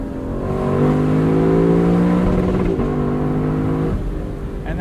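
A Lexus LC sports car engine revs hard up to its rev limiter, rising harmonics climbing then holding and bouncing at the cap, loud and close, alone with no talk.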